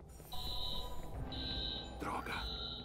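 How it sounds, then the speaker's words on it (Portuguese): A steady electronic alarm in the video game Watch Dogs blares in repeated high buzzing pulses, loud over game ambience, with voices speaking briefly mid-clip. "O alarme foi acionado."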